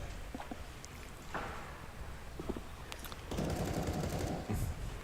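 Video game gunfire sprayed through walls: scattered sharp shots early, then a dense rapid burst of automatic fire in the final seconds over steady background noise.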